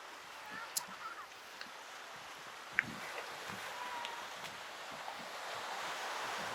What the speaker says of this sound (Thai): อย่างน้อยก็มีทะเล นี่ ทะเลบางแสน